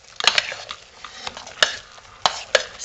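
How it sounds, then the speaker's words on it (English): A spoon stirs powder into a soap mixture in a bowl, with scattered sharp clicks and scrapes against the container at irregular intervals, close and fairly quiet. "I'm going to sprinkle a teaspoon over it and then start stirring it in."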